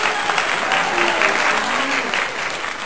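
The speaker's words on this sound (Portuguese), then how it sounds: "Bate palmas." Steady, dense applause from many hands clapping at once, continuous and fairly loud throughout.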